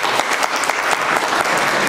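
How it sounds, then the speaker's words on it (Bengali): An audience at a community cultural program applauding, dense steady clapping from a crowd that fills the room. "আমরা একটা হাততালি দেব।"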